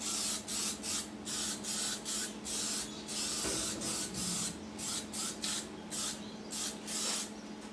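Aerosol rust protection sprayed onto fresh welds on a Mk2 Ford Escort RS2000 under restoration, heard as a string of short, steady hissing bursts in an even rhythm, close to the microphone with no voices.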